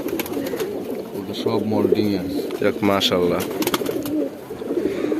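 A large pigeon in a home loft in Hemayetpur coos steadily under close conversation, with some rustling movement mixed in and the birdsong continuing around the talk.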